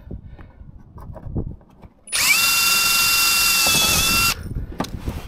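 A power drill drives a screw in one burst of about two seconds, a loud high whirring rise that holds steady and then stops, with quieter shuffling and handling noises before and after.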